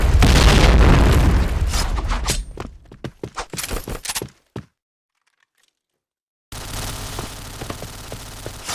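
A grenade blast in the shooter game Point Blank opens loud and booming, then breaks into scattered crackling debris pops that thin out into silence before quieter in-game ambience returns.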